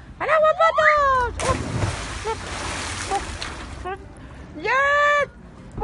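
A splash from a jump into a swimming pool, a broad watery burst lasting about two seconds between excited voices and a child's speech.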